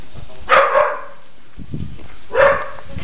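A dog in Venice barks at passersby: two loud, close bursts of barking about two seconds apart, with quieter rustling and faint movement between them.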